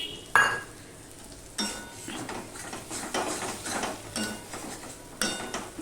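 Fish heads frying with spices in a pan, a steady sizzle broken by several sharp scrapes and knocks of a spatula on the metal, close and fairly quiet, with no voices.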